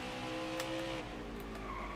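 Race car tires skidding and squealing in NASCAR Heat 5, a steady engine drone with a sustained screech running through two seconds, fairly close.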